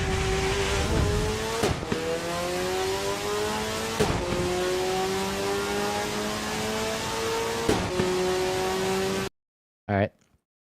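A race car engine in the Project Motor Racing video game is held on the rev limiter down a straight, a loud steady high whine with rhythmic stutters and brief cuts, before dropping to near silence with one short burst.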